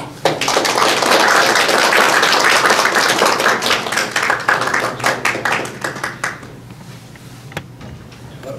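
Loud audience applause at a church revival meeting, dense clapping that swells then thins out into scattered individual claps before fading.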